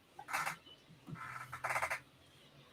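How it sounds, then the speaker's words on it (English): Bird calls playing from one podcast participant's side of a call, a few bright chirping bursts in close succession with a low background hum, fairly faint and without talk. "the birds I'm hearing are coming from Carmen's constant bird sound, not from the video"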